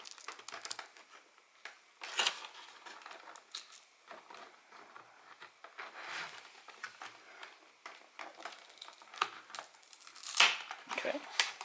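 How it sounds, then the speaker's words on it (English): Close, quiet crinkling and tearing as an adhesive sticker is slowly peeled off a PlayStation VR headset light, with intermittent soft rips and rustles and occasional talking between them. "we know that there's an adhesive sticky right here, we're just going to slowly peel it off."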